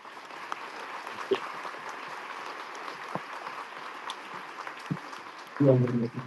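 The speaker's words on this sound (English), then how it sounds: "Let's give them a round of applause." Steady applause from a sizable crowd at a graduation ceremony fills the clip at moderate volume, a continuous wash of clapping with a few louder claps and a voice near the end.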